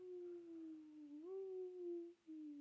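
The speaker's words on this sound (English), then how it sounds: "There were faint howls of coyotes outside." Coyotes howl outside on a dark night around 10:30, a single long sustained wavering howl that rises midway, dips briefly near the end, then resumes, fairly faint and distant with no talk.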